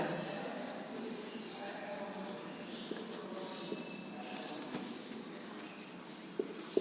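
Writing on a board during a math lesson, a continuous scratchy scrawl with occasional taps, close and fairly steady throughout.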